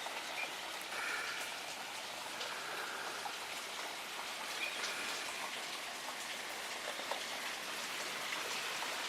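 Steady rain falls outside on a garden in Redcliffe, Queensland, a constant soft hiss with fine pattering drops, even and moderately faint throughout.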